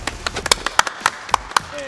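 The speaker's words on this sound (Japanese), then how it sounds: "拍手。" Scattered hand claps from a small group after a volleyball challenge, sharp irregular slaps close by with quiet voices in the background.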